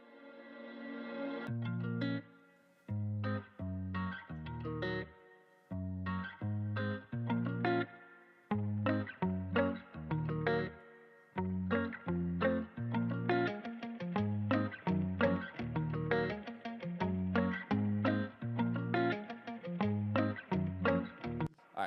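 Distorted electric guitar tracks in a Pro Tools mix play a chugging, rhythmic riff of stop-start power chords, loud and full, with short gaps between phrases.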